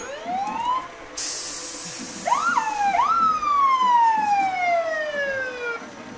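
A fire engine in a Christmas parade sounds its siren in rising and falling wails close by, with a sharp hissing burst partway through over steady outdoor noise.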